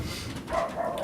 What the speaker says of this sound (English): Sorry about the dogs barking upstairs.